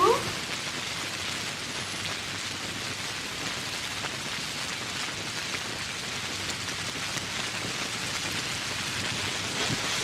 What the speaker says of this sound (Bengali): আর এখনো বৃষ্টি আসলো।